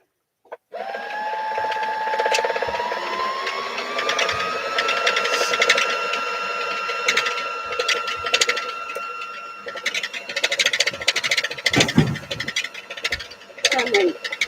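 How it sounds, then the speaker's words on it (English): A sewing machine run by a foot pedal winds a bobbin, a sustained whirring motor tone that rises in pitch as it speeds up, with clicks and handling noises near the end. "I gotta wind my bobbin."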